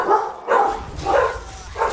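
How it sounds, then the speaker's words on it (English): Dogs in the Hearthstone Battlegrounds video game bark excitedly, giving four loud, evenly spaced barks in quick succession against a low background rumble. "The dogs are excited."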